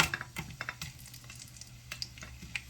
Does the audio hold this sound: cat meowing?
no